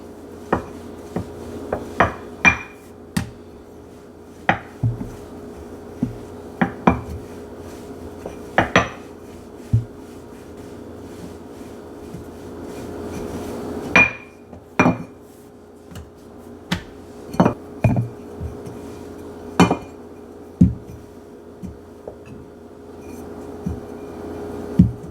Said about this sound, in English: Next we're going to roll out the dough